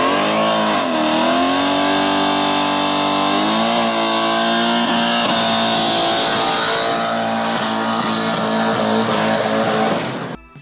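A Mercedes W204 C63 engine revs hard and loud, the pitch climbing and falling through sustained, throaty sweeps before cutting off abruptly at the end.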